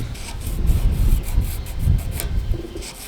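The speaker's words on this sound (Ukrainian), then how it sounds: "Далі вирізаємо дві смужки з латуні 1 мм" Jeweler's fretsaw cutting 1 mm brass strips, a close rhythmic rasping of short back-and-forth strokes, fairly loud, with no voices.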